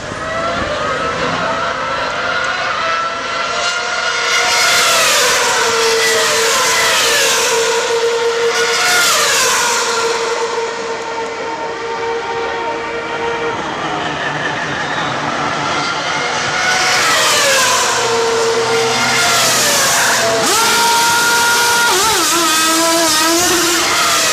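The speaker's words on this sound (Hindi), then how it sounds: "ये तो शांति से गाड़ी आई और चली गई" A vehicle passes by, its engine noise swelling as it approaches and fading as it moves away, loud and continuous with pitch sweeps as it passes.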